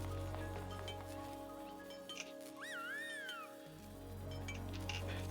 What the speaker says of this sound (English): the kitten just randomly got up and ran